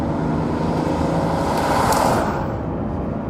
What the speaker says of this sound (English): combine the two and there's a wild nature to this engine